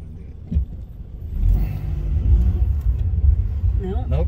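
A car drives up the road nearby, its low engine rumble rising and holding steady over about four seconds, with a brief bump early on.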